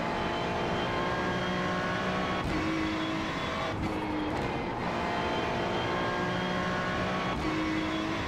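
A BMW race car engine screaming around the Mugello circuit in the iRacing sim, loud and sustained with steady high revs, brief dips at gear shifts and lifts for corners, no speech.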